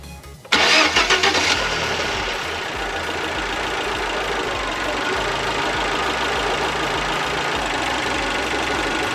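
A Fiat Grande Punto 1.4 T-Jet engine, run with its lambda sensor removed, cranks and catches with a loud burst, then settles into a steady, rumbling idle that continues without interruption.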